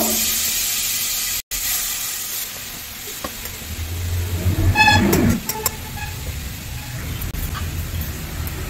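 Half a kilo of grated carrots dropped into a hot, dry kadai with no ghee, for carrot halwa; a loud sizzling hiss swells midway and then settles into a softer steady crackle.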